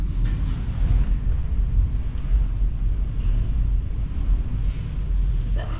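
Strong wind buffeting the microphone on the coast near a lighthouse at Wilson's Promontory National Park, a loud, continuous low rumble that gusts throughout.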